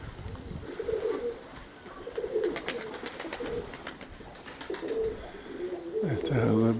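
Pigeons coo in repeated low, soft phrases spaced through the clip, close by, with someone talking quietly in between and some rustling.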